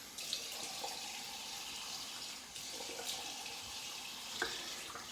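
Tap water runs steadily into a sink, a soft continuous rush heard close by and alone, used for wetting the face before a wet shave.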